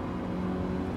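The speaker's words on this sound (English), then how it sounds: "the sound of this car is really boring" Engine of a regular consumer hatchback car in Gran Turismo 7, a steady, even drone held at constant revs, fairly loud and alone with no voices over it.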